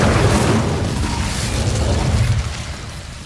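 The Incendio fire spell in Hogwarts Legacy bursts with a loud, broad whooshing boom at the start, then a roaring rush that fades gradually over a few seconds.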